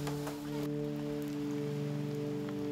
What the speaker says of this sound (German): Der Regen hält an.